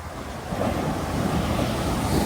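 Strong ocean waves break on a sandy beach, a steady roaring wash of surf with wind noise buffeting the microphone, with no voices.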